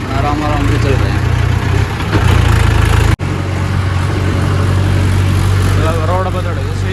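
A tractor hauling a heavy load of bricks chugs along a road at night in low gear, its engine droning loudly and steadily with a brief dropout, and someone talks over it.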